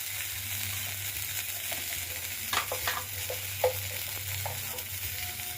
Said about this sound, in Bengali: ভালো করে একটু নেড়ে করে নিলে মশলাটা ভাজা হবে।